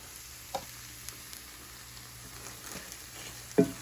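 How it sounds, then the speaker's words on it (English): Soy sauce poured into frying lo mein, a faint steady sizzle close by with a few soft clicks from the pan and no voices. "And then I'm going to add the soy sauce."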